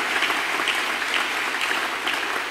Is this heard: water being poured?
no